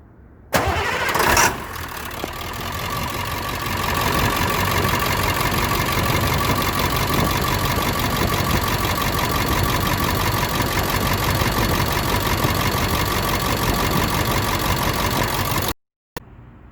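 International 4700 truck's T444E diesel engine cranks briefly with a sharp burst, then catches and settles into a loud, steady idle that runs continuously close by, with no talking.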